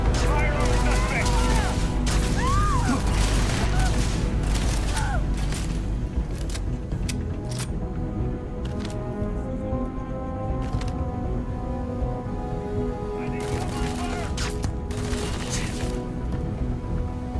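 Gunfire from the Starfield game, loud bursts of shots and booms packed into the first several seconds, then sparser sharp cracks over game ambience, with speech in between.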